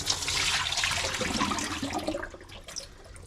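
Running water splashes continuously as rice is rinsed in water while cooking pork adobo, a steady close washing sound with no talk.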